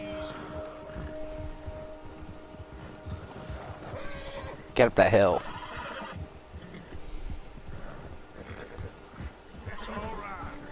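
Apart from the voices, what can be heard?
spooked horse neighing in video game Red Dead Redemption 2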